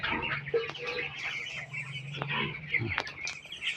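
Broiler chickens raised on a small farm in Mindoro cluck softly and intermittently in a quiet pen, with a few sharper squawks near the end.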